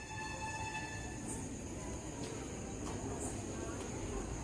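Steady rumble and hiss of a train at a railway station, with faint squeals and clatters over continuous low-frequency noise, fairly close and without clear speech.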